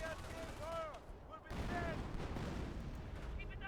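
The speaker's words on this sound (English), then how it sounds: "The howitzers are now firing." Howitzers fire in Company of Heroes in a WWII battle near a church, a dense broadband rumble of blasts that swells partway through, with a voice talking over the opening.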